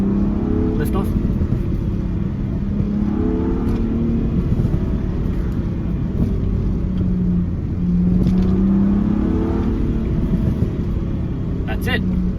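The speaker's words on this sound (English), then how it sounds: "So if I accelerate, lift off." Volkswagen R36 with a crackle map exhaust tune, heard from inside the car as the engine revs and lifts off, a steady loud rumble with rising and falling pitch sweeps and faint pops, someone talking over it.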